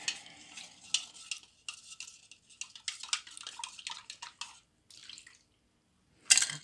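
Liquid dye is stirred in a container with quick, irregular scraping and swishing, then a brief splash as it is poured.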